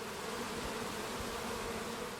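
A voice imitates a buzzing bee with a sustained Z sound, a steady, even, close hum lasting about two seconds with no other sound.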